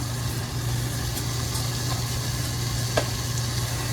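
A sticky caramel mixture with a pinch of coffee powder cooks over medium heat, giving a steady, close, low sizzling hiss with no talking.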